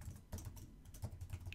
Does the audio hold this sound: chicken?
no